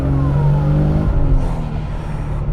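Twincharged 1JZ inline-six in a Toyota Soarer pulling hard in second gear, a loud continuous engine roar with rising harmonics, close and steady throughout, no voices.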